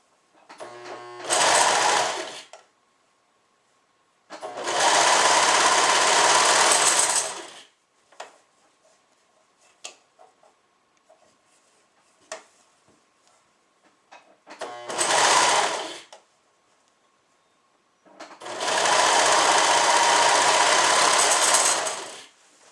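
A sewing machine stitches the shoulder seams of a suit in four loud, steady runs of rapid whirring, separated by quiet stretches that hold faint handling clicks and taps close by.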